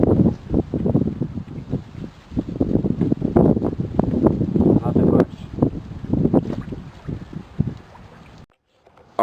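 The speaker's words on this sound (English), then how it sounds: "it is windy and cold" Wind on a cold winter fishing trip buffets the microphone in rough, uneven gusts, mixed with a voice, before dropping away near the end.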